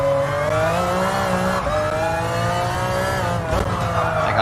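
A 1996 McLaren F1 GTR race car engine in Gran Turismo Sport roars steadily at high revs, its pitch sagging as the throttle eases through a turn, then climbing again, with a faint tire scrub underneath.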